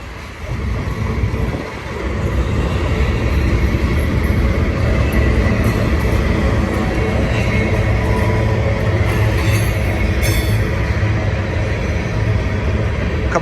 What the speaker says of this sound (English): Beautiful train. Nice mixed freighter.